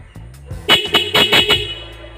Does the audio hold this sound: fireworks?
no